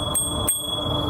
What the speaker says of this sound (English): I rung the bell.